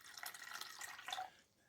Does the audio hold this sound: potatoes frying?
no